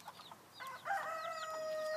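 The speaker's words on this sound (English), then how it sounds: "I also wanted to show you I got a new little D'Anvers hen" A D'Anvers hen gives a few short, close clucking calls, with small chirps from other birds nearby.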